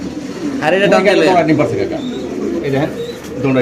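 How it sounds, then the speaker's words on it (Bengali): A fancy pigeon sitting on two eggs coos in low, rolling bursts close by, mixed with people talking in the background. "এই যে জন্না কবুতরটা মাশাআল্লাহ টাইগুরি অনেক সুন্দর দুইটা ডিম নিয়ে বসে রয়েছে কবুতরটা"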